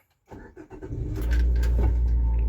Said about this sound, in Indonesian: mesinnya masih halus banget